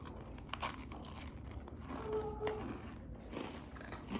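Bites into crunchy homemade chocolate chip cookies produce a few quiet, close crunches and crinkling snaps over a couple of seconds, faint and intimate in a quiet room.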